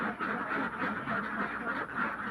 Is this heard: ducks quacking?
yes